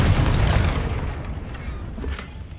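Repeated Confringo spell blasts explode in the video game Hogwarts Legacy: a heavy opening boom that rumbles and fades, then a couple of smaller sharp cracks later on, with no voices.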